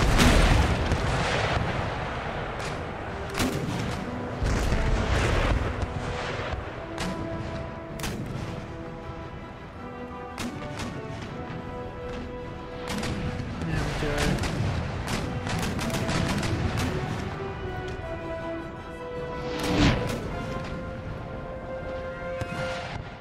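Naval cannon broadsides of chain shot in Empire: Total War, sea battle, with repeated booming volleys and sharp cracks spread across the clip, dense layered gunfire over continuous background din and music.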